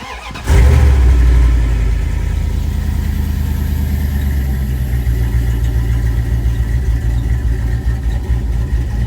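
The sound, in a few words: car engine starting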